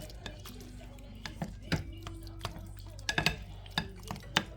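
Cream cheese and tomatoes smushed and mixed together in a bowl, giving soft irregular squelching knocks and utensil clicks against the dish, close and fairly quiet.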